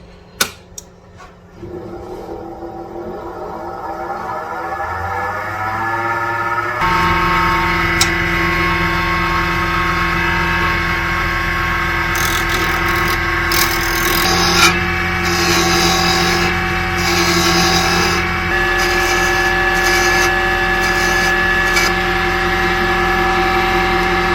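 A ring-making machine spins up toward 2,500 RPM while shaping a wooden ring built over a metal core, settling into a loud, steady whirring hum with tonal overtones that holds for the rest of the stretch.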